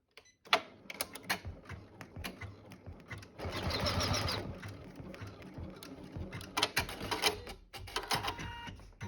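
An embroidery machine stitches a design step in a tab slot credit card holder, giving close bursts of fast clattering needle strikes with irregular pauses and one longer sustained run.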